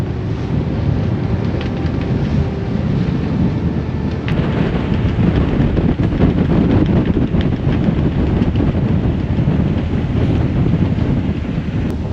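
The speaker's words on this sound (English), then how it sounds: "We're on 17 to maybe 22 knots of wind, so 2 reefs, working jib." Strong wind of about 17 to 22 knots roars past a sailboat under two reefs and a working jib, a loud, steady rushing with no talking.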